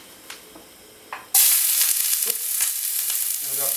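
A chopped onion drops into a tablespoon of hot oil in a pot for a corn and chickpea chowder. After a quiet start and a couple of small knocks, a sudden loud, steady sizzle bursts up and carries on close by.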